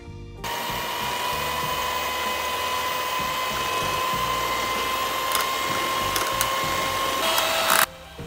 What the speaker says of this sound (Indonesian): Tuang air dingin beserta whipped cream bubuk, kemudian kocok hingga mengembang.